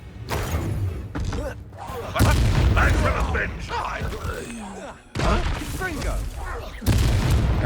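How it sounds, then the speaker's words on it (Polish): Exploding barrels in the video game Hogwarts Legacy go off as several heavy booms and thuds in irregular bursts, loud and mixed with game effects, with a player speaking over them. "O, te beczki wybuchające są cudowne."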